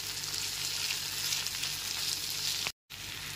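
Masala with chopped green chili sizzles and fries in a pan while being stirred, a steady loud crackle that is briefly cut to silence near the end, with no talking.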